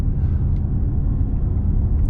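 Mercedes GLC220 SUV from 2023 under way in Sport Plus mode, a low steady engine and road rumble heard from inside the cabin, muted and even with no sharp revs.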